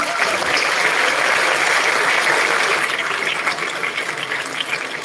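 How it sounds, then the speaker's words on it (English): A graduation audience applauds for students completing their SE studies, a dense, steady wash of clapping that stays loud for several seconds and eases slightly toward the end. "Give yourself a round of applause."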